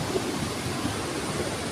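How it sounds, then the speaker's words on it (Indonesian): Large ocean waves breaking at a beach, a continuous broad rushing wash of surf with no distinct individual crashes, heard alone without voices. "Sama di sini ombak juga besar,"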